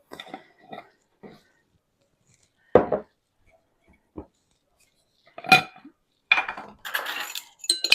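Metal teaspoon clinking against a container while scooping baking soda for cherry bars, a few light scattered taps followed by sharper clatters and a busy run of clinks at the end, close and quiet with no talk.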